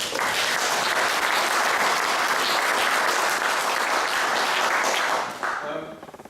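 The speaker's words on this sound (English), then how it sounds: "So I also have a small hand of applause for Peter Edwards as the chair." Dense, loud applause from an audience at a Vietnam veterans' history evening greets the chair, sustained for about five seconds before tapering off into a voice.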